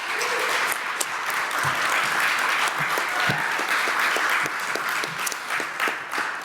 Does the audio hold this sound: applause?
yes